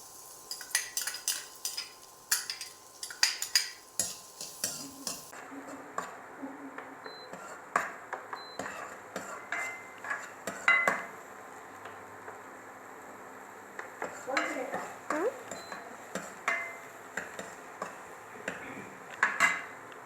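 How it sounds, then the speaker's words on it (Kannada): Onion goes into a pan of fried ginger and garlic and is stirred, giving repeated close metal clinks and scrapes of a utensil against the pan over a faint background sizzle. "ಇವಾಗ ಆನಿಯನ್ ಹಾಕ್ಕೊಳ್ಳೋಣ"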